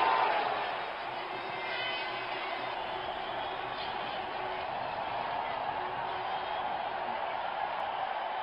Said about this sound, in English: Crowd senses a flurry of boundary here. They are making some serious noise.